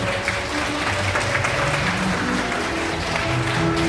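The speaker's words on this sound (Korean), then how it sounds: "박수 부탁드리겠습니다" Wedding guests in a hall applaud the mothers of the couple, a steady, dense clapping that holds evenly throughout without a break.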